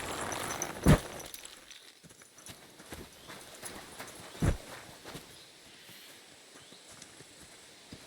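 Horse hooves clip-clop at a walking pace in the Kingdom Come Deliverance 2 video game, soft and steady under a low outdoor ambience, with a couple of louder thuds and no talk.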